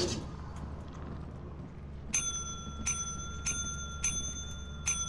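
A bell in a video game rings four times in a quick, evenly spaced series of bright, clear dings over a low background hum.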